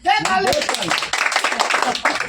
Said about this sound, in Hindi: दे ताली